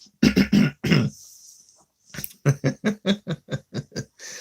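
A man coughing indoors, first a few harsh coughs, then a long run of short rhythmic bursts, close and loud with brief pauses between them.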